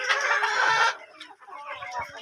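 Fayoumi laying hens on a farm in Taraganj, Rangpur, sitting to lay in the morning: a loud, close burst of rapid clucking, then quieter, softer clucks from the birds.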